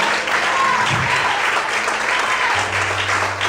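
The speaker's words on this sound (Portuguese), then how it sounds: "Você pode aplaudir mais forte o Senhor?" A congregation claps harder when urged during a Portuguese-language church service, a thick continuous wash of applause from many people, with a low held organ-like note entering near the end.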